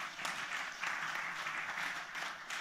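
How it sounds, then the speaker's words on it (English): A conference audience at an East African media gathering claps in a continuous, moderately distant roar of applause, steady throughout with small surges, no voices standing out. "Round of applause."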